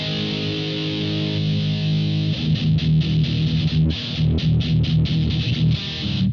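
Gibson Firebird X electric guitar played through its onboard EQ edit mode, a sustained tone giving way to a run of loud, rhythmic strummed or picked chords, steady and close with no talking.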